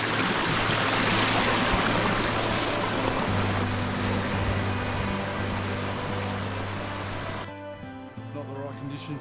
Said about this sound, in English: Got a fresh water stream running through as well.